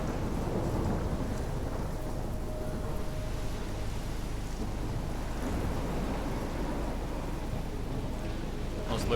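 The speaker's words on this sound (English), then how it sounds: "So we are in a storm." A thunderstorm in the video game Life is Strange: heavy rain pours steadily with a deep rumbling of thunder underneath, a dense, loud and constant wash with no clear breaks.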